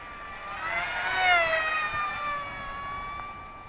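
An Eachine F16 50mm EDF RC jet kit, converted to a pusher prop, passes overhead with a high, whining tonal scream that rises and falls in pitch as it sweeps by at moderate distance. No talk is heard over it.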